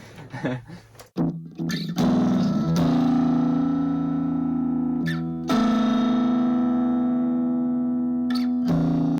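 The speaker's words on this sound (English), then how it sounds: "there's also a slap delay happening at some point, it sounds like" Distorted electric guitar through an amp with a tube tape echo Echoplex-style slap delay, sustained chords ringing with short repeating echoes, loud and close, with a few sharp attacks between held notes.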